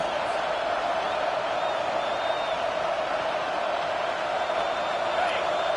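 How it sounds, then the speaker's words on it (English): Dense, steady roar of a packed college football stadium crowd at South Carolina versus Texas A&M, loud and sustained throughout as fans try to force a fourth-down stop, with no distinct breaks. "This crowd busting the decibel meter and trying to will a 4th down stop."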